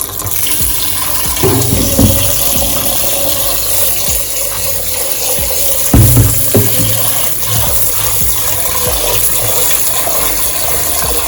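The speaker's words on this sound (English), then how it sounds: "Wash my rice" Water runs and splashes steadily as rice is washed by hand for a Jamaican-style meal, a continuous rushing and swishing sound with a couple of louder sloshes, with no talking.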